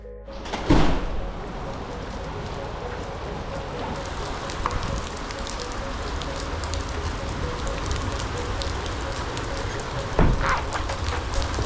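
Steady rain falls outdoors during a long training run, a constant broadband hiss of drops on surfaces with a few scattered louder knocks and patters over the whole stretch.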